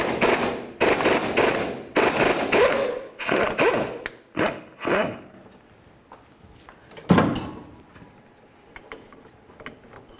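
A pitman arm puller is tightened on the steering box of a 1992–2000 Chevy Tahoe. A close, loud ratchet clicks in rapid bursts, then gives way to a few clanks and softer metallic handling noises.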